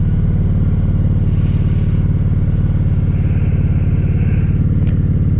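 Steady wind and road roar fill the inside of a motorcycle helmet while riding, with a loud low engine drone underneath and faint higher whooshes passing over it, and no one speaks.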